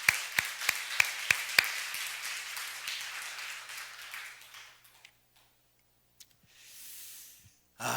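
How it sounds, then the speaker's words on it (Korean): Five or six crisp claps ring out quickly at the start in a church service, then the sound fades into a quiet, reverberant room with a few scattered clicks and a soft hiss near the end. "하나님께 영광의 박수 한번 올려드리겠습니다"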